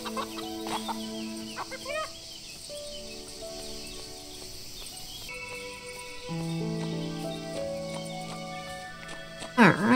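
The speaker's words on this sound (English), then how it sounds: "All the chickens have come home." Chickens cluck and a rooster-like call sounds amid game-style tones and background music in the farm game Everdream Valley, with scattered bird noises throughout and a louder burst at the end.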